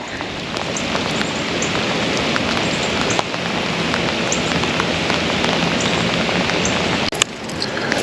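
Steady rain patters on an outdoor surface during a bass fishing outing, a dense continuous hiss of drops lasting throughout with no voices.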